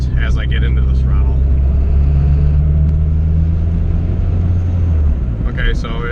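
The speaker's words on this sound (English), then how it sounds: "I'm gonna just stab the gas quick and see where we're at as I get into the throttle" A built turbocharged Honda B18C1 engine in an EG hatchback GSR rises in a brief throttle stab, its loud low rumble swelling and holding steady over several seconds, with someone talking faintly over it.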